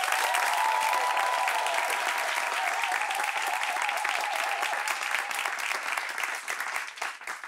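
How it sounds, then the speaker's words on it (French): A studio audience at a French-language talk show applauds, a close, sustained burst of clapping that stays full and even before thinning slightly at the end, with faint voices underneath. "Applaudissements pour vous-même."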